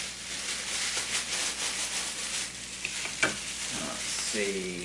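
Butter melts and sizzles in a pan while being prepared for a pineapple upside-down cake: a steady, close frying hiss that carries throughout, with a light clink of utensil near the end.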